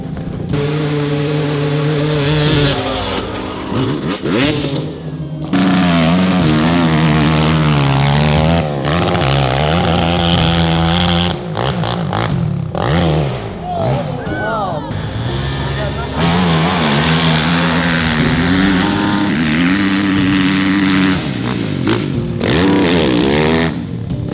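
Racing motorcycles at a New England series hillclimb in Monson, Massachusetts, with loud engines revving hard. Pitch rises and falls through gear changes and briefly drops off between runs.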